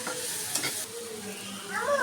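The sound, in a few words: vegetables frying and being stirred in a pan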